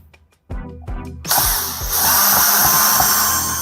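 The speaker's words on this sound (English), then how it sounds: "I've got my drill out here to make this part easy." A power drill backs out two stripped drywall screws from an electrical box, starting with a few short bursts before settling into a loud, sustained whine of the motor spinning, close up and uninterrupted by talk.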